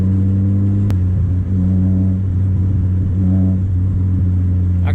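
A stock car fitted with an aftermarket catback exhaust, coilovers and an aftermarket radiator drones loudly from inside the cabin as the engine revs and pulls, its steady rumble rising and falling between gear changes.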